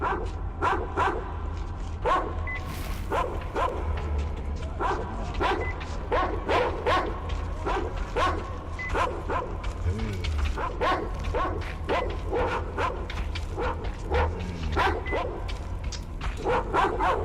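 Dogs in the video game Metro Exodus bark again and again through a long stretch, sharp yips and bow-wows coming in quick bursts over a low constant rumble, with no talking.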